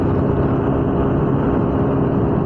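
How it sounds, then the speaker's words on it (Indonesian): Strong wind roaring past while riding at night across the Suramadu bridge: a loud, constant, dense rush with no breaks and no voices. "Anginnya kencang banget."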